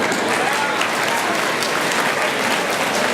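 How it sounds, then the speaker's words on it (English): A school assembly audience applauding loudly, a dense, even roar of many hands clapping close by, continuous for the whole few seconds without speech. "Hold for applause, okay."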